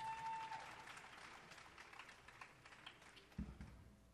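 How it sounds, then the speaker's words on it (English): Audience applause at a youth performance on a stage, a faint, brief patter of clapping from a small crowd that fades out quickly. "I would like to give a round of applause to my acts that went before me."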